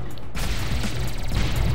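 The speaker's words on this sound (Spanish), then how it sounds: "tengo un disparo muy evolucionado y es muy diferente al de Skyforce, el normal" Player ship in the Sky Force Reloaded shooter game firing an upgraded weapon, a dense, continuous rattle of rapid shots with booming impacts, loud and unbroken with no voice over it.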